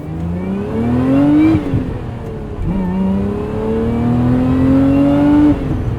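Engine of a 2024 Lotus Emira with a 6-speed manual, revving up under load, dropping sharply on a rev-matched downshift and climbing again, loud and close from the cabin with no talk.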